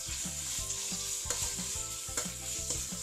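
Chicken pieces hit a pan of sautéing ginger-garlic paste for fried rice, frying with a steady close sizzle while a spoon stirs in quick repeated scrapes and knocks, with no talk.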